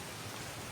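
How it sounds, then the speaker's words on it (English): Heavy rain on the Appalachian Trail during a thunderstorm, a dense, steady hiss of falling water, close and even, with no voices. "It's raining pretty hard"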